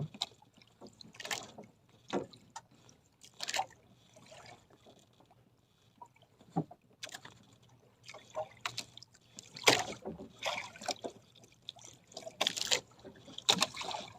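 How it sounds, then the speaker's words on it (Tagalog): Tuna splashing in the sea right beside a small fishing boat, heard as repeated irregular splashes and water slaps at close range, some strong and some faint, between quieter gaps. "kung narinig yung lagasak na yun, tuna yun"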